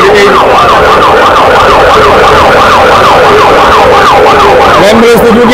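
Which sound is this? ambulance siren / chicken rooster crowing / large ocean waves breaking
ambulance siren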